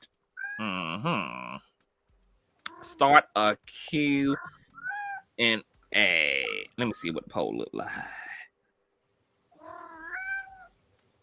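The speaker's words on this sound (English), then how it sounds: "A Maine Coon." A Maine Coon cat meows several times in short bursts, close and clear, with a person talking before and between the calls.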